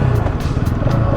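A Bajaj Pulsar 200 NS motorcycle engine runs steadily close by, holding an even, rough low rumble with faint clatter through a short stretch and no talking.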